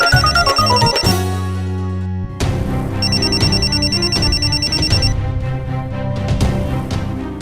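A telephone rings in repeated bursts over loud background music, the electronic trill cutting through clearly and close.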